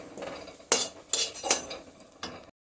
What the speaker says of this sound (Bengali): কচু আমার একদম পারফেক্ট ভাজা হয়েছে, এখন নামিয়ে নিচ্ছি।